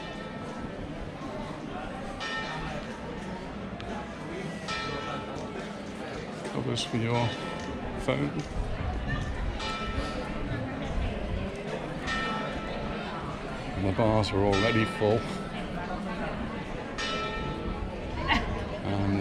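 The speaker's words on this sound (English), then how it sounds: "the bells are chiming for 10 o'clock in the morning" Church bells chime ten o'clock on a Sunday morning at the Llucmajor fair on Mallorca, ringing in the background beneath steady crowd chatter and someone talking close by.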